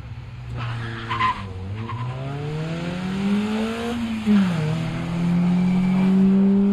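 A BMW E36 Compact launches down a quarter-mile drag strip, its engine note climbing steadily through the gears with rising revs and a brief tire chirp, loud and close against background crowd and track noise.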